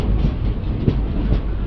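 A passenger train pulls out of Parlakhemundi station, a loud steady rumble of wheels on rails with rhythmic clacking thumps of the carriages rolling close by.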